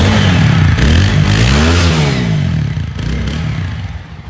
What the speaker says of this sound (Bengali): এবার বাইকের সাউন্ড কোয়ালিটি আপনাদেরকে দেখাবো।